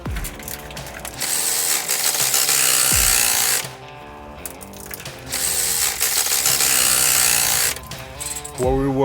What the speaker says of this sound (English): What we were just doing was removing the rear motor mounts.